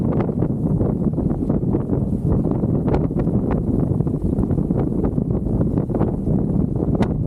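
Strong wind gusts buffet a sailboat on a mountain lake, a loud, continuous rumbling roar of wind against the microphone with frequent sharp flaps and knocks.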